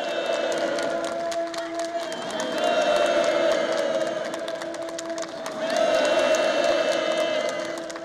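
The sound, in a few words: participants' enthusiastic applause at a housewarming ceremony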